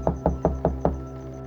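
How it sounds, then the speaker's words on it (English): Five sharp knocks on a mountain cabin door in an even rhythm, close and distinct against a quiet low background hum, with no voices. "When the knocks came,"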